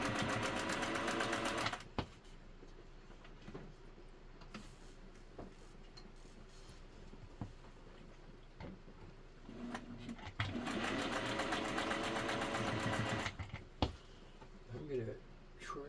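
A Singer 401A sewing machine stitching fabric, a close, steady mechanical whir that runs in bursts with brief pauses and a few clicks between them, rather quiet overall.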